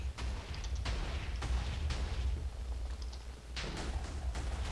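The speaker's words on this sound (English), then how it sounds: "I'm still watching it explode. It's not done exploding yet." A Minecraft explosion keeps going as a rumbling low roar, overlaid by a run of crackling bursts and pops at moderate volume.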